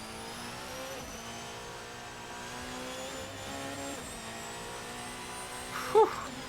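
Race car engine in the Assetto Corsa racing game, holding a steady high-pitched drone at top speed near Lake Como, with a brief sharp click near the end.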